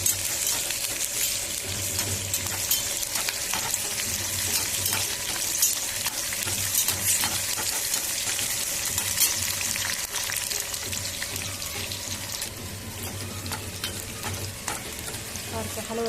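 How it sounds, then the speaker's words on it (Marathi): Green chillies roast in a pan for Maharashtrian thecha and are stirred steadily, making a continuous close sizzle with scraping and clinking of the spatula against the pan throughout. "सारखं हलवत राहायचं, जास्त कडक होऊ द्यायचं नाही. भाजून झाल्यात मिरच्या."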